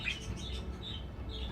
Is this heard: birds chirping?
yes